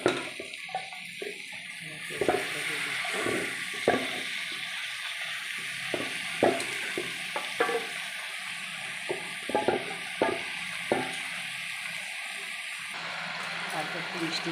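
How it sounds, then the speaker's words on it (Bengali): Grated coconut with cumin, coriander, chili and turmeric powders sizzles as it is sautéed in a pan, a steady frying hiss broken by stirring scrapes and clinks, with a voice talking over it. "লঙ্কা গুঁড়ো, হলুদ গুঁড়ো দিয়ে আমি নারকেল একটু কষিয়ে নেব"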